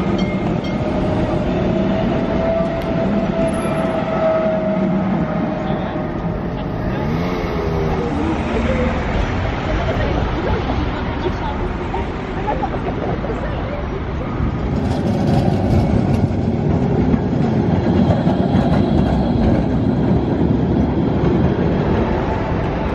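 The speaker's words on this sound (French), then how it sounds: "le tramway." A tram rolls through a city street with a steady, loud rumble and rail clatter that swells toward the end, heard nearby over general traffic noise.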